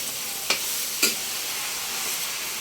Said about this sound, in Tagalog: So, dito po alalay lang po yung paghalo.